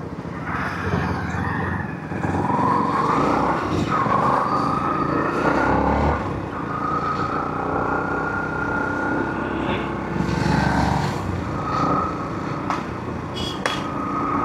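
A motorcycle rides through traffic at about 40-45 km/h, picked up by a helmet-mounted Action 5 Pro microphone: a continuous engine drone mixed with wind rush and surrounding vehicle noise, with occasional louder swells as traffic passes.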